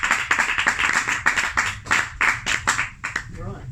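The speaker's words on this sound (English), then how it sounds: "Let's give them both a round of applause." A small audience at a climate activism talk claps in a short, sparse round, individual hand claps distinct and uneven, with a voice speaking over it near the end.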